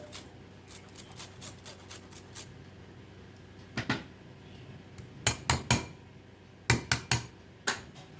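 Green mango salad being mixed by hand in a bowl with gondhoraj lemon, giving soft rubbing, squelching strokes followed by several sharp clinks and scrapes against the dish, spaced out and fairly close, with no voices.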